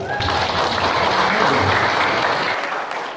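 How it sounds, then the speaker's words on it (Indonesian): A crowd at an Indonesian religious sermon breaks into continuous, loud applause that fills the whole moment without letting up. "Tepuk tangan aku dah."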